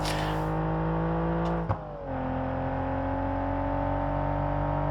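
A DeLorean DMC-12 engine in the driving game BeamNG.drive drones loudly at sustained revs, dropping briefly as a gear changes and then climbing again in a steady, close, tonal hum.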